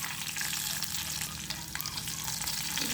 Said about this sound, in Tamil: எண்ணெய் வடிவாக கொதிச்சுட்டு இப்போ சின்ன ஜீரகம் போட போகிறோம்